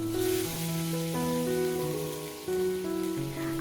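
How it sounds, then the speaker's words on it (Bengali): Fish fry in hot oil with a steady, dense crackling sizzle that continues throughout, while soft tonal music plays over it. "চলো এবার মাছগুলোকে চটপট কড়া করে তেলের মধ্যে ভেজে নিই।"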